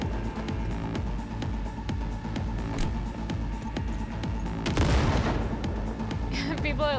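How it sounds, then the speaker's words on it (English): A grenade goes off in the video game Cyberpunk 2077, a burst of broadband noise around the five-second mark that stands above a dense, steady bed of game gunfire and sound, with people talking throughout. "Oh, grenade!"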